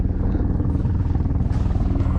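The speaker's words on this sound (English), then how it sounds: "Helicopter's coming right there, and he's gonna refill right here." Cal Fire helicopter approaching a lake to refill with water while fighting a California wildfire in December, steady loud rotor thump close by, filling the whole span.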